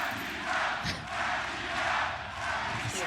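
An esports arena crowd at VCT Masters Madrid roars for Sentinels during the Gen.G vs Sentinels upper bracket final, a dense, sustained cheer that swells and dips in waves without a break.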